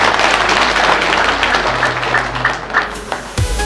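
An audience at a public speech claps in a dense, steady wash of applause that fades out near the end, with no voices over it.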